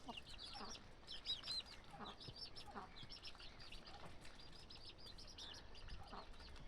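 Chickens clucking and chirping in a steady chorus, with scattered wing flaps, fairly close and continuous throughout.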